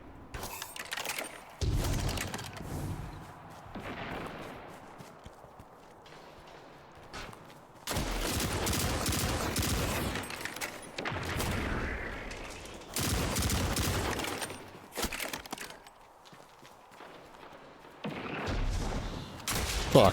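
Gunfire in the video game Destiny comes as repeated bursts of loud, rapid shots with quieter gaps between volleys, plus occasional heavier booms and faint footsteps.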